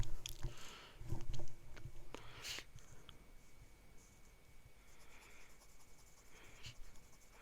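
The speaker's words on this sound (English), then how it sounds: "So again, we'll do an ink swatch here." A broad Jowo-nibbed fountain pen, an Atelier Lusso Andromeda, laying down an ink swatch on paper, heard up close as quiet scratchy strokes and brief taps, louder near the start, then softer scribbling.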